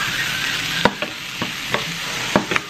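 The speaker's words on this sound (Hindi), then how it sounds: "धनिया पाउडर, थोड़ा सा गरम मसाला, और इसको हिला देते हैं" Dal tadka in a pan with red chilli, coriander powder and garam masala stirred in: a constant close sizzle cut by several crisp spoon scrapes against the pan, with no voices.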